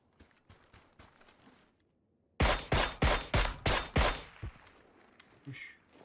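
Gunfire in a battle royale video game on a cold battleground map: a rapid burst of five or six loud, evenly spaced shots after quieter scattered steps and rustling, then fading scrapes and movement.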